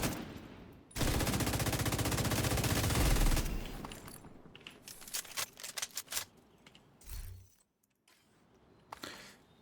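Sustained minigun fire in a video game, a loud continuous rapid rattle for a few seconds, then scattered shorter bursts and impacts fading out.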